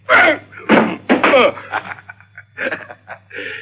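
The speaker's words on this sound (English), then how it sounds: "Your gun hit the door, Shelby." A gun strikes a door in a radio suspense drama, landing as sharp impacts mixed in with voices talking, one knock-like hit right after another, close and fairly loud.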